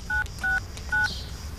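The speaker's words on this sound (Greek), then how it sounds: "Θα πάρω τηλέφωνο τον άντρα σου τώρα." Three short DTMF keypad tones from a telephone being dialed, evenly spaced beeps over a faint room hiss, no voices.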